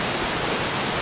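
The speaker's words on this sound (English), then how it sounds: "There's the waterfall over there." A waterfall near caves rushes in a dense, steady roar of white water, loud and close, with no other sounds.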